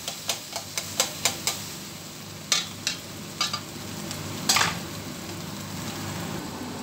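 Eggs in a frying pan in port at Bejaia, Algeria give a soft, steady sizzle, broken by a quick run of light taps and then a few scattered clicks like a utensil striking the pan.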